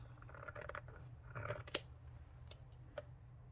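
Scissors snip through quilted paper ephemera in a few close, crisp cuts, with a sharp snap near the middle and quieter rustling around it in a quiet room.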